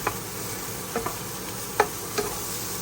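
Tuna masala sautéing in a little oil over medium-high heat, a quiet steady sizzle with a few short clinks and scrapes of a spoon stirring in the pan.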